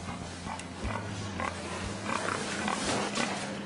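Pigs in an industrial piggery grunt and squeal in short, repeated calls over a steady low hum in the barn.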